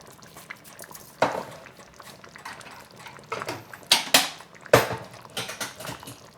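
A Korean-style spicy silken tofu soup is stirred in a pot, giving soft wet sloshing and a few sharp utensil scrapes and knocks against the pot, heard close and alone with no talking.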